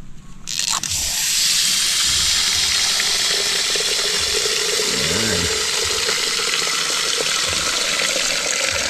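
Water pours steadily into a drinking container, a loud, continuous broadband rush that starts after a brief click and runs unbroken, with a faint low gurgle near the middle.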